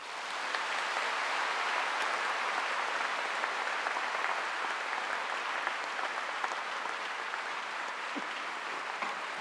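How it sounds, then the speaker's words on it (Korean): A church audience applauds to welcome a guest pastor to the pulpit, a dense, even roar of many hands clapping from a large crowd, sustained for several seconds at steady volume with no speech. "박수로 환영해 주시기 바랍니다."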